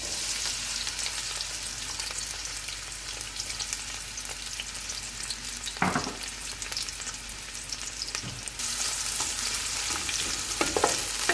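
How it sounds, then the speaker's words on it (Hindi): Onions fry in oil in a kadhai, a soft, continuous sizzle broken by occasional stirring scrapes, the hiss swelling a little toward the end; no one speaks. "अभी कढ़ाई में मैंने तेल डाला है, इसमें मैं प्याज डालूंगी"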